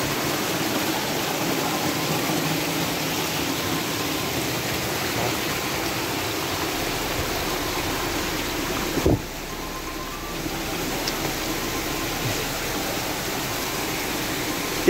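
A waterfall in a hidden spot near Pacaya volcano in Guatemala roars as a steady broadband rush throughout, with one brief knock partway through and no voices.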